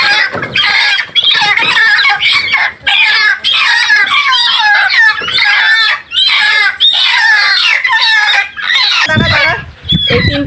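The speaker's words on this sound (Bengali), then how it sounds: "মুরগি ধরবো, মুরগি আছে" A flock of household chickens clucks loudly and continuously up close, a busy chorus of overlapping calls with a brief crow-like cry, while someone speaks faintly nearby.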